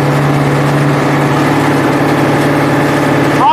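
Farmtrac 6055 CRDI 60 hp tractor engine running steadily and loud throughout, a constant low diesel drone with little change in revs, close by and alone.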